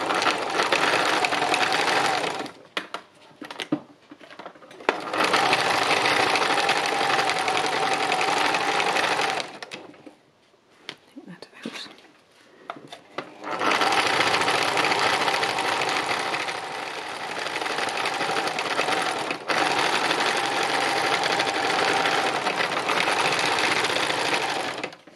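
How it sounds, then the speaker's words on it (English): A sewing machine running free machine embroidery with dark blue thread, loud steady whirring stitching in long runs broken by two short stops and restarts, no voices. "I've just got some dark blue thread in my machine, and I'm just going to do some stitching and see what comes"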